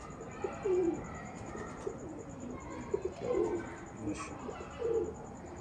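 Teddy pigeons from Dubai on a rooftop, cooing in soft, low, throaty repeated phrases at close range, with a faint steady high whine in the background.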